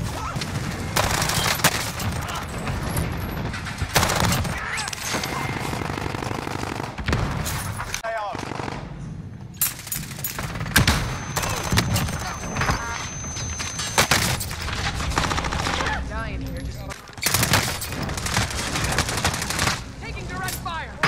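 Rapid automatic gunfire and bursts in Call of Duty Warzone, loud and close, repeating through most of the stretch with short pauses. A voice talks over it at times.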